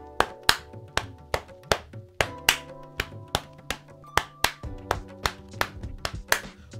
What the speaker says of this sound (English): So they've got the chest slap at the beginning